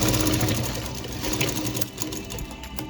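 Sewing machine stitching the lining and strip of a baby cap together, a fast, close, continuous mechanical whir with rapid needle rhythm throughout, no talking.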